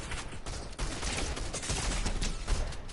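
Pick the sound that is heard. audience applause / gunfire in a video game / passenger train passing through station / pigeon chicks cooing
gunfire in a video game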